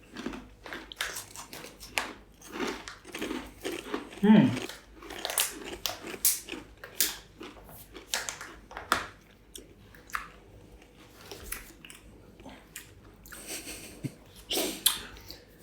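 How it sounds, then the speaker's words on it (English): Monarchs baked cheddar cheese crisps are crunched up close in a run of sharp, irregular bites and chews, loud crackles alternating with brief quieter gaps, with no talking over them. "They're very crunchy. Yeah, it's a lot crunchier than I was expecting"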